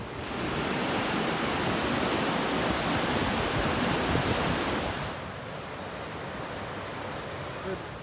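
Fast-flowing water of the River Mersey near Stretford and Urmston, a steady broadband rush that holds constant, then drops slightly quieter partway through, with no talk.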